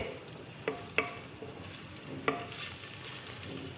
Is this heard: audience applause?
no